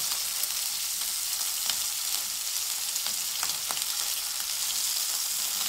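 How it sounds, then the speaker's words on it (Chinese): A steak fries in a hot pan in its own melting fat, a dense continuous hiss and crackle with scattered pops, close and steady, with no voices. "煎牛排会更香。"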